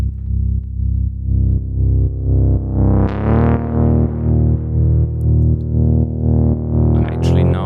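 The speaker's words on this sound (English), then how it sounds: "the bass is coming here from the Moog Sub 25 and sounds like this." Deep bass notes from a Moog Sub 25 synthesizer pulse in a steady, rhythmic pattern, loud and alone, with the tone sweeping brighter and then darker partway through as a filter shifts.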